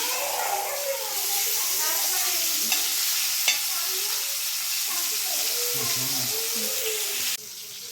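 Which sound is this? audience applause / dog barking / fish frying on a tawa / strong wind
fish frying on a tawa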